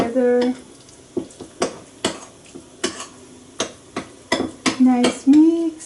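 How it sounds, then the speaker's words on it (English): Noodle base stirred and mixed in a pan, a utensil clacking and scraping in a series of separate strokes, with brief sizzling bursts at the start and end. "mix, mix, mix, mix together"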